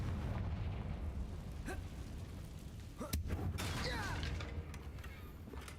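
Confringo fire spell from Hogwarts Legacy bursting with a sharp crack near the middle, trailing off into crackling debris over a steady rumbling game background.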